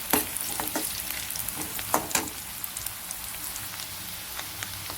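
Soft, steady sizzling of onions sautéing in a pan, with scattered pops and a few scraping stirs.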